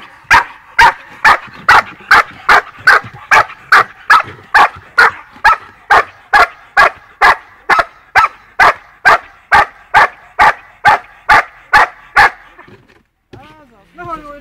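A dog barks sharply about twenty-five times at a fast, regular pace during a training session, loud and close, then falls silent and makes a few faint whines at the end.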